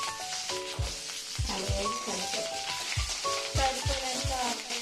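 Curry leaves dropped into hot oil crackle and sizzle in steady bursts, with stirring taps and soft background music, while preparing munagaku pachadi.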